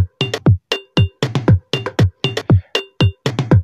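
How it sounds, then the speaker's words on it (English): A punchy electronic Afrobeat drum pattern made in FL Studio Mobile, kick thumps and sharp tonal hits repeating in a fast, steady loop. "Kick with the drum sound like this"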